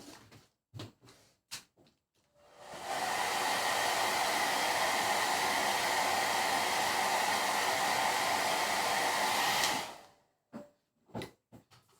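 A hair dryer runs steadily for about seven seconds, drying paint on a gingerbread cookie craft, loud and close, with faint handling clicks before and after.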